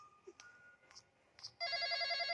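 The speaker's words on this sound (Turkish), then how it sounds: "dur telefon çalıyor" A telephone rings in a Roblox döner shop game, with a few faint beeps first, then a loud, sustained electronic ringtone tone pattern starting partway through.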